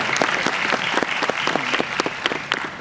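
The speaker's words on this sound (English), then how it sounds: "Let's take an applause for this question" A crowd at a cosplay conference applauds an audience member's question, giving a lively, continuous burst of many hands clapping at a steady level for about three seconds, with a few sharper individual claps standing out.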